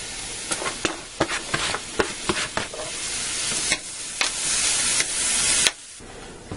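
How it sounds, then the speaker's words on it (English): Loud, steady sizzling of onions, garlic and bacon frying in a pan, with sharp clicks and scrapes of stirring breaking through the hiss. "I'm going to go ahead and fry all this until the onions and garlic are sautéed and bacon is crispy."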